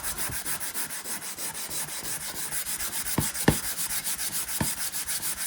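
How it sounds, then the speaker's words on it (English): A dry new scouring pad scrubs cast iron cookware in quick, even back-and-forth strokes, a close, rasping rhythm with a few sharper scrapes near the end. "So just take a dry new scouring pad and give it a rub."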